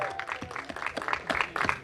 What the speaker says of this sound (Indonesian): tepuk tangan sekali lagi untuk seluruh tim dari film Balada Si Roy